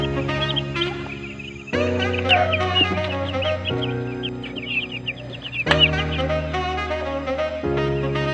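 Bantam chicks chirp in a cardboard box lined with thick cloth. Busy, high, overlapping peeps carry on throughout, moderately close, over a steady musical background.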